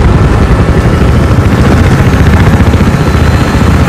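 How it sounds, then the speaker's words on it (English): Support chopper helicopter in a large-scale 32 vs 32 military video game, its loud, steady rotor and engine roar filling the scene continuously and close by, with no voices over it. "Let's use this support chopper."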